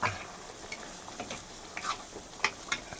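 Coconut milk simmering and being stirred in a pot with jackfruit nearby, a faint steady bubbling hiss with scattered soft scrapes and clicks of a spoon, quiet and close, no talking.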